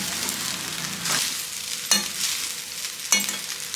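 Ajwain-seasoned rice frying in a pan, a continuous bright sizzle close by with three sharp scraping stirs of a spatula punctuating it.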